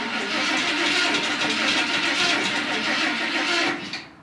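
A 1970 Ford engine with a hard-starting fault cranks steadily for several seconds, a loud, close, rhythmic churning that never catches, then cuts off abruptly.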